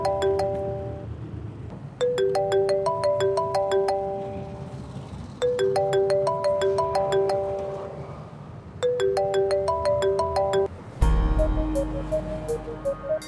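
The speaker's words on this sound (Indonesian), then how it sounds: "HP saya bunyi." Mobile phone ringing in repeated bursts of a bright chiming melody, loud and close, with short pauses between phrases, ending as a different electronic tone sequence takes over.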